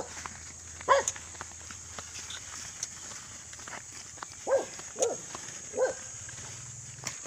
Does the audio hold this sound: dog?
yes